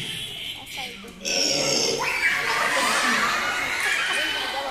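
A voice imitates a baby burping during a children's movement game with beanbags held like babies, giving short gurgling, grunting belch noises followed by chuckles and laughter from the group, near and fairly loud.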